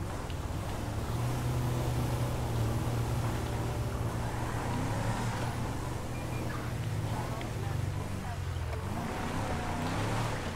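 Chevrolet Cruze police car of an environmental patrol driving on dirt roads in GTA V, a steady low engine drone with wind-like rushing noise, constant and fairly loud.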